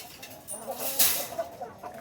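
Young chickens clucking and squawking close by in a scuffle, a short burst of busy, overlapping fowl calls.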